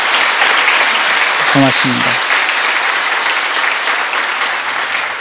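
An indoor audience at a church seminary gathering gives steady, sustained applause that fills the whole clip, with a brief spoken thanks near the start.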